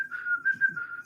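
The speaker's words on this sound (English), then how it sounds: "Someone whistling." Someone whistles a single sustained tone that wavers slightly in pitch and loudness, close and clear, with a soft low murmur underneath.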